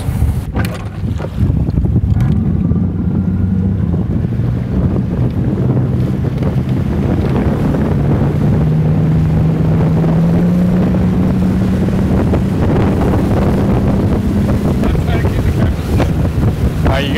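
A Boston Whaler 22 Outrage motorboat engine hums steadily across the water, with heavy wind buffeting the microphone throughout.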